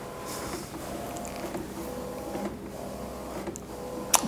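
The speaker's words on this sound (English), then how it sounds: "And here's the print coming out." A Canon PRO-300 inkjet printer feeds out an A3 colour print on Baryta paper, a steady close mechanical whir and hum with faint clicks and a small tick at the end.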